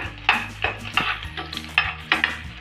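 Garlic frying in hot oil in a pan for a dhaba-style garlic fenugreek dish: a soft sizzle runs under repeated, rhythmic scrapes of a spatula stirring against the pan, close and clear.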